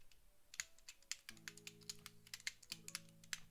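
Rapid clicks of computer keyboard typing while a chat message is entered during a Conflict of Nations WW3 game session, with an irregular burst of close, crisp keystrokes and a faint tone underneath.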